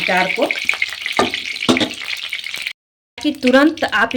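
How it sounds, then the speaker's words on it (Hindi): Broad beans (sem) fry lightly in a pan for a quick pickle, giving a soft sizzle under a talking voice, with a brief moment of total silence partway through. "इसलिए हमको थोड़ी सी इसको फ्राई करनी थी"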